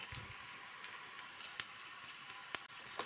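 Sliced shallots, dried red chillies and curry leaves fry in oil for a Kerala prawn and raw mango curry, giving a soft, steady sizzle with occasional sharp pops and no voices.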